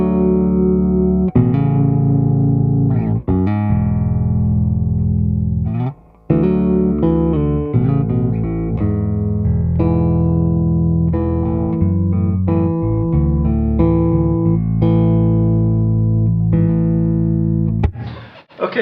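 A bass guitar plays a continuous melodic line through an Ashdown Dual Tube 550 bass amp with flat EQ settings, full and clear, heard alone with a brief pause midway.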